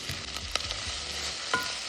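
Onion, scallion and thyme sauté in a pot for a Jamaican one-pot pumpkin rice, a steady soft sizzle broken by a couple of sharp stirring scrapes and clinks.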